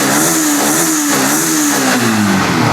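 A 2018 sports motorbike engine revs loud and close, its pitch climbing and then easing back in a steady, throaty drone, with no talking.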